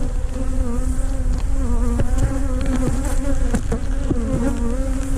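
Dense honeybee buzzing during a nuc check, loud and steady, with the drone of many bees close in and sharp individual bees zipping past.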